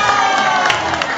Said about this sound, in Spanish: Aplauso para Diego el Cuadrado.